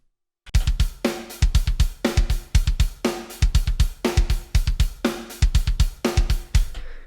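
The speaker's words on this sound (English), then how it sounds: "So we can have our closed hi-hat play eighth notes instead." A programmed drum groove with a steady kick and snare under closed hi-hats ticking out even eighth notes, loud and close, repeating in a tight loop.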